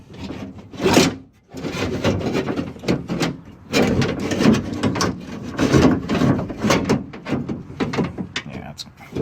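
Door latch mechanism with attached rods being pulled out of a Ford OBS pickup door: close scraping, rubbing and clunking of metal parts against the door panel, in irregular bursts with a brief pause, some speech mixed in.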